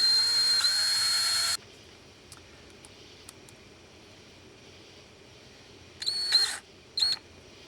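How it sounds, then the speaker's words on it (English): A power drill pre-drills holes for drywall screws during a power steering box reseal on a 1966 Chevelle. It gives a loud, high whine for about a second and a half, then two shorter bursts after a quiet gap. "I'm going to use these drywall screws and pre-drill it with 3 30-seconds bit"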